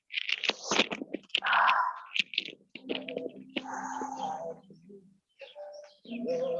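A dove coos and chirps in several short bursts, fairly close, with brief pauses and some faint background noise between calls.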